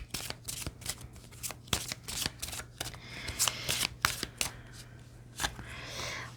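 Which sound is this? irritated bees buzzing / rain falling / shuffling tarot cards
shuffling tarot cards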